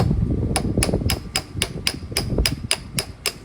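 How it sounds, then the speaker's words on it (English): A hammer taps the axle bolt out of a Honda NC700X motorcycle's front wheel, striking about eleven sharp metallic blows at a steady, even rhythm, close and clear over a low background hum. "we're back driving the axle bolt out"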